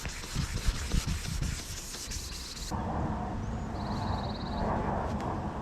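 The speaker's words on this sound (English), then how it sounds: "we're gonna wet sand it with 1000 grit" Car paint being wet sanded by hand with 1000 grit sandpaper while sun-damaged paint is restored, a continuous close rubbing scrape that changes texture partway through.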